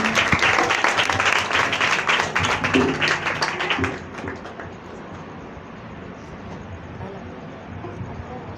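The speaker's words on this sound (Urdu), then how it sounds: "خدا کے کلام کے لیے زوردار تالیاں بجائیں گے" A congregation applauds loudly for about four seconds, dense rhythmic clapping that stops abruptly, leaving quiet room tone.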